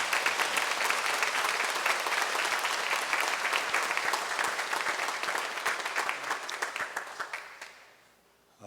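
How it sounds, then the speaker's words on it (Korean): A church congregation at a Sunday worship service bursts into loud, sustained applause, a thick wash of many clapping hands that holds steady before thinning out and fading to near silence at the end. "그래도 박수 한번 해주셔야 될 것 같습니다"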